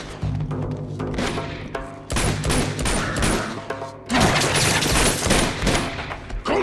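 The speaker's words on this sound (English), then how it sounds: "Come on, just keep shooting!" Sustained gunfire in the action game Uncharted, dense overlapping bursts of shots and heavy thuds, loud and close, with no talking.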